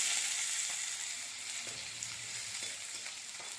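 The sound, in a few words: food frying in a pan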